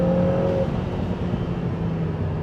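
A Lotus Emira First Edition with its 2.0-litre AMG engine in sport mode while driving, a steady low engine drone with road noise, a faint higher tone fading early, fairly loud and even throughout.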